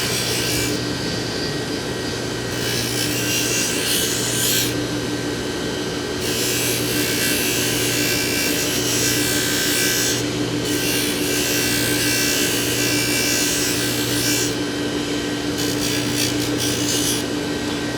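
A low-cost Dayton bench grinder spins a convolute wheel to polish and condition lockpicks, giving a steady, close, continuous whirring rasp with a faint motor hum underneath and brief shifts in texture as the picks are pressed to the wheel.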